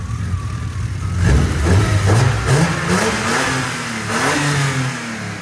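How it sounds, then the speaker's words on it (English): A BMW M3 brought over from Japan, now on new spark plugs, revs up and settles in a smooth, loud series of rises and falls, with no sputter, close by. "No sputter, low RPM, no sputter whatsoever. It's running super smoothly now."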